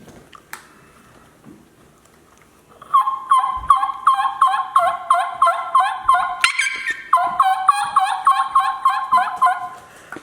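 After a short quiet start, a hand-held mouth call produces a long run of rapid, rhythmic gobbling yelps, close and loud, imitating a turkey.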